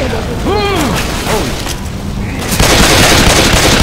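A pipe bomb goes off in Left 4 Dead 2 amid chaotic gunfire, with a loud boom surging in the last second after shouting players talk over the din.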